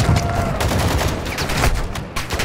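Gunfire in a tactical shooter video game during a hostage rescue: a dense, continuous clatter of rapid shots fills the whole moment, close and loud, with no one speaking over it.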